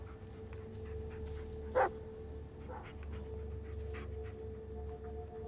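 A dog in the Blair Witch video game gives a single short bark or yip partway through, faint over a steady low ambient hum with scattered soft clicks.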